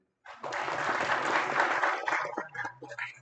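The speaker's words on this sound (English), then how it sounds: "I want everyone to give a round of applause to him" A graduation audience breaks into applause for an honoree, dense crowd clapping that starts abruptly, holds steady, then thins out with scattered claps and a low murmur at the end.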